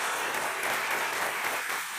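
An audience breaks into steady, sustained applause, a dense wash of clapping that holds evenly throughout at moderate level before easing slightly at the end.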